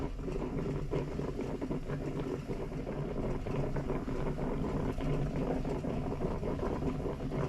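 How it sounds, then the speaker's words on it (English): Liquid boiling hard in a pot on a vintage seat heater, a steady dense bubbling and rumbling that stays even and fairly quiet throughout, with no talking. "It's boiling good."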